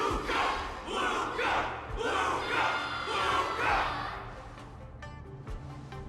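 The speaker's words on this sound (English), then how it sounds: "Everyone's cheering for you, Luca!" Game crowd cheering and roaring in rhythmic waves from a large gathering at a war dance event in Honkai: Star Rail, loud and continuous with rising chants and no speech over it.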